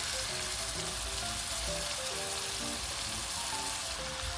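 Onions frying in a pan for mee soto give a close, steady, even sizzle with no break and no voices.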